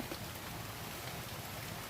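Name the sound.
heavy rain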